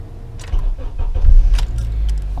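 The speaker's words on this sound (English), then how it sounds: "I'll turn the car on because I have a weak battery" A Honda car with a weak battery cranks and starts nearby, a low steady engine rumble building and settling into a loud idle, with brief clicks and jangles on top.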